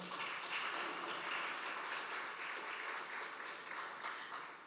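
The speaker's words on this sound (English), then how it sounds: "I just want us to just exercise our hands and give the JMEA a round of applause." An audience gives a sustained round of applause for the JMEA at an MOU signing ceremony with the JSE, dense steady clapping filling the room throughout without letting up.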